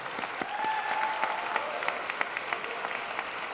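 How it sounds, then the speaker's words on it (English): At an academy of film and television event, an audience gives a sustained round of applause for curriculum creators, a steady crowd of clapping hands with a faint tone running underneath. "So I'd like to give them a round of applause as well."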